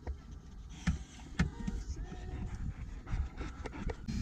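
A dog panting aboard a sailboat tied up in a marina, quick breathy huffs close by, with a few sharper knocks and background rustle.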